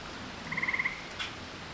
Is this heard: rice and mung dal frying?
no